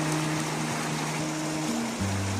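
A river on the savannah flowing steadily, a continuous broadband rush of water with a low hum underneath, close and even throughout.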